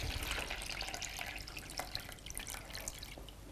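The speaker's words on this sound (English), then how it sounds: "So we're just gonna pour our water in the bowl," Water poured into a bowl in a kitchen, a soft continuous splashing trickle at low volume with faint drips, close by and without talking.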